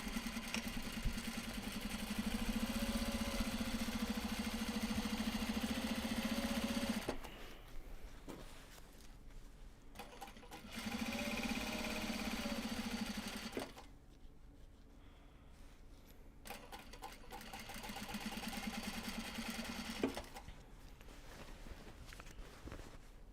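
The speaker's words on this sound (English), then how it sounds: "Top stitching is like one of the fastest parts of doing the large box bags" A sewing machine top stitching large box bags, running in steady humming bursts of several seconds separated by quieter pauses.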